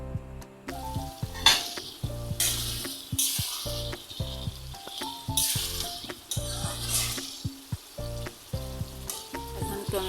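Brinjal fries in a pan and gets stirred while a Manipuri fish curry is cooked, producing bursts of sizzling and scraping that rise and fall over steady melodic background music.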